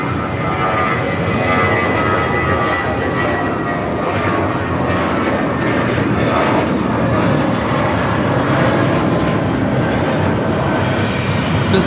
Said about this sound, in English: This is Vellante 1715 taking off to Guadalajara on the A320.